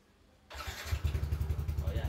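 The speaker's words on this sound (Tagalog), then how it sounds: "O yan. Maandar na yung makina." A small Yamaha NMAX scooter engine catches after a brief quiet, then settles into a rapid, puttering idle close by.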